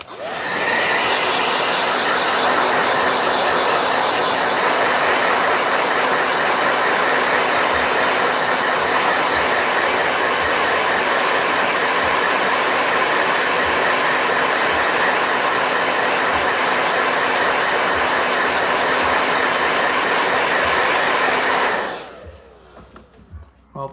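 A blow dryer runs loudly and steadily in a continuous whirring roar, then cuts off near the end, leaving quiet room sound.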